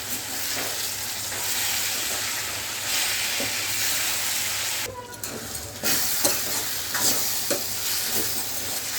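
Gongura pickle being stirred in hot oil in the pan, a steady bubbling sizzle with scraping stirs and brief clinks, continuous and close, with a short pause partway through.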